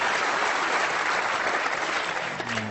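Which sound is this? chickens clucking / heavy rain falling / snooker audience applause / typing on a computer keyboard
snooker audience applause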